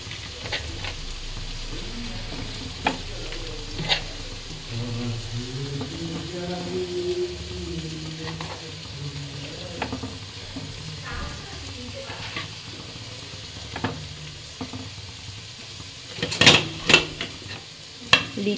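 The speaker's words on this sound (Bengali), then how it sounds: "পেঁয়াজটা ভালো মতো ভাজা হয়ে গেছে" Onions and potatoes frying in a pan, a soft steady sizzle under occasional spoon scrapes and clinks of cookware, with a few sharper metallic knocks near the end.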